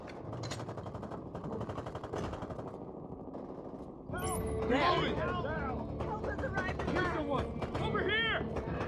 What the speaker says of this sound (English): I was about to shoot those guys up above.